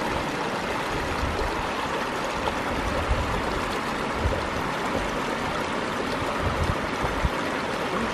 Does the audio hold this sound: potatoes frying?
no